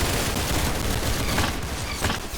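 Dense, continuous gunfire in the Roblox game Arsenal forms a loud, unbroken barrage of overlapping shots with no voices.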